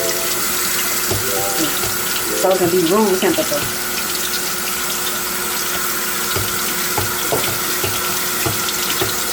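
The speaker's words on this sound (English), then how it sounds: "I'm gonna thaw it out a little bit and running it underneath some hot water" Hot water runs from a kitchen tap over a frozen pie crust to thaw it, a loud steady splashing stream throughout while someone speaks briefly over it.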